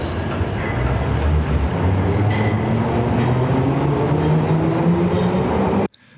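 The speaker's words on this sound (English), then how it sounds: "And then the train departs" A train pulls away from a station platform, heard from a fixed spot on the platform: a loud, steady rumble with rising engine tones that builds over several seconds and then cuts off abruptly.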